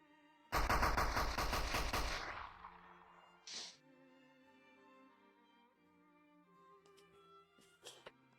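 A loud, fast burst of automatic gunfire in VRChat, roughly a second and a half of rapid shots that ring out and fade, followed by a short whoosh and a few faint clicks over quiet background tones.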